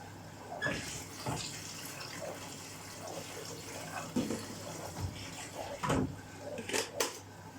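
Water runs into a washing machine drum for a duvet and bedding set wash, a soft steady trickle broken by a few quiet knocks and clunks, faint and close.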